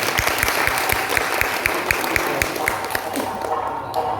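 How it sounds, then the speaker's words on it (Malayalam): An audience at a talk claps together in a burst of steady applause, close and loud, before it thins and fades toward the end. "എന്നാ ഡോക്ടർക്ക് നല്ലൊരു കയ്യടി കൊടുക്കണ്ടായിരുന്നു."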